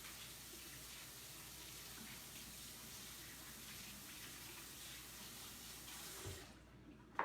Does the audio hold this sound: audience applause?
no